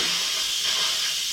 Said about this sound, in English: Shall we let out the steam?